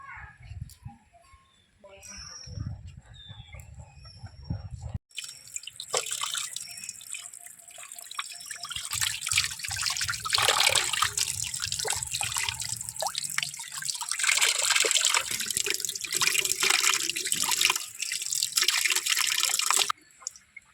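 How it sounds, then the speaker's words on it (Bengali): Tap water runs and splashes over cut pomfret fish in a sink, a loud steady gush lasting about fifteen seconds after some earlier handling sounds, with no speech. "চলো বন্ধুরা আবার ধুয়ে নিয়ে আসি"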